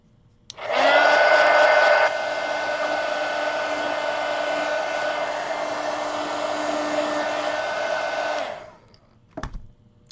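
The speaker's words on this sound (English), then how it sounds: "let me dry it real quick so I can add some more layers." A hair dryer blows steadily close by for about eight seconds while drying a freshly colored sketchbook page, loud and whining, then switches off and is followed by a short handling rattle.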